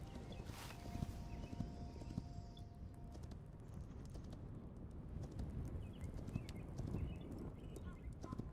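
Horse hooves clip-clop steadily in the video game Hytale, a continuous run of quick, even footfalls under soft ambient noise, with a brief tonal chime near the start.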